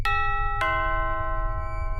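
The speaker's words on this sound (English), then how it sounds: "Who rings your doorbell at 4 a.m.?" A two-tone doorbell chime rings out close and clear, two strikes a split second apart, the second tone ringing on and fading slowly over a low hum.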